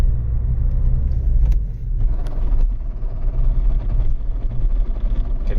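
A 2015 Ford Focus with a damaged gearbox shifts from first into second while driving, a steady close engine and road rumble with brief disturbances during the change and no talk.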